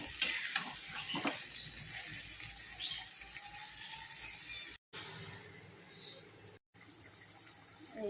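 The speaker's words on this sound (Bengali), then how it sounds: "মাংসটা আমি ছেড়ে দিলাম আদা রসুন পেস্টের সঙ্গে, এখনও মশলা দিইনি, এটার সঙ্গে একটু কষাবো" Chicken meat frying with ginger-garlic paste in a pan, a steady sizzle with occasional stirring clatter near the start, continuous and close.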